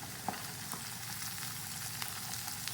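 A steady close sizzle of quinoa frying in a pan, a dense crackling hiss with occasional small pops and no talking.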